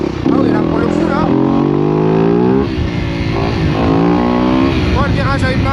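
A dirt bike rides through city streets, its engine loud and close, revving and dropping in pitch as the throttle opens and eases, with brief dips between pulls.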